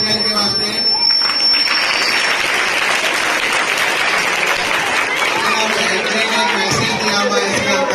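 Loud applause from an audience at a primary school cultural programme for children, a dense, sustained wash of clapping with crowd chatter mixed in throughout.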